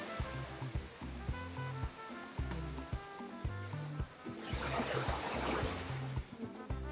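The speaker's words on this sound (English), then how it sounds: "Again, the beautiful river running right through Provenza." A river runs through the Provenza neighborhood of Medellin, its steady rushing flow swelling midway, heard outdoors beneath music playing nearby on the street.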